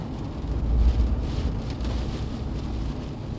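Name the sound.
strong wind gusts during Hurricane Debby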